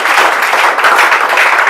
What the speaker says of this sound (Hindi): इनके स्वागत के लिए जोरदार ताली आप लोग बजाइए।